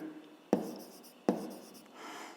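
Pencil writing a measurement on paper, with two sharp taps as the point meets the page followed by soft, close scratching strokes.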